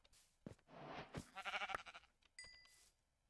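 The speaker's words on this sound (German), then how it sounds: "Ah, hier ist ein Schaf." A Minecraft sheep bleating several times in quick succession, a wavering nasal cry, clear and close with no talk.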